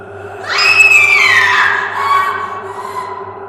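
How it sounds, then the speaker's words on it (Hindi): A woman's high, wavering scream of pain rises sharply, holds, then trails off into fainter echoing cries over a low steady hum. "अचानक चीखने की आवाजें गूंजने लगी"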